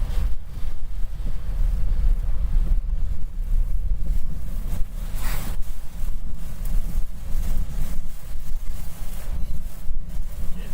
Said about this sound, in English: getting gusty. Gusty, gusty, gusty.